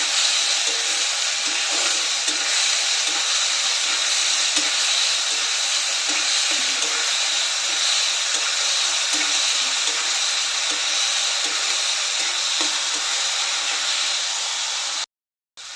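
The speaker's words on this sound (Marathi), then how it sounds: "तर हे सर्व चांगलं परतून घेऊया. गोल्डन ब्राऊन होईपर्यंत चांगलं परतून घ्यायचं आहे." Onion and tomato with a spoon of salt sauté in a pan until golden brown, giving a steady, close hiss of frying that stays even throughout and cuts off just before the end.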